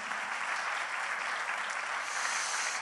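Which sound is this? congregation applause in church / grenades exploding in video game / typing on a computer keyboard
congregation applause in church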